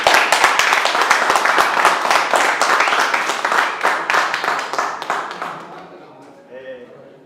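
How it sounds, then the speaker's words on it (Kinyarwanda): Audience applause at a celebration, dense rapid clapping from many hands filling the space, loud and sustained before thinning out and fading near the end. "mwabaha amashyi"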